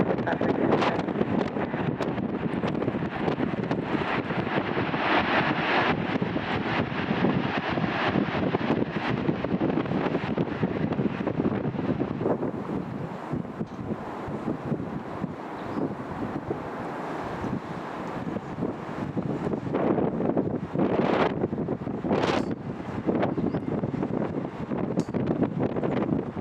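Strong gusting wind of around 40 knots buffets the microphone at Birmingham Airport, a loud continuous roar with surging gusts throughout.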